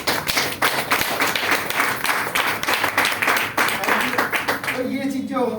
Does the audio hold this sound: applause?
yes